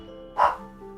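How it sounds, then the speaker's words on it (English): A single short dog bark, moderately loud and close, rises briefly over a quiet hum of background game sound. "Sorry about the dog."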